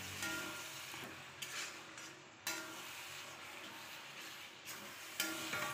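Bottle gourd and fish being stirred in a frying pan, with a steady close sizzle under scraping spoon strokes against the pan and a few sharper clanks.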